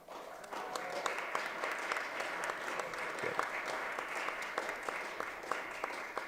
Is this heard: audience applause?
yes